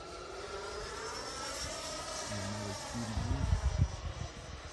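Xfly T-7A Red Hawk 80mm EDF RC model jet flying, a distant whooshing whine that slides in pitch as it passes, with some low rumble near the end.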